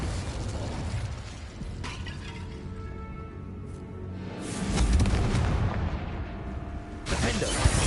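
Repeated Confringo fire-spell explosions in the Hogwarts Legacy video game, heard as dense booming blasts over layered game sound and music, with a louder surge in the middle and another burst near the end.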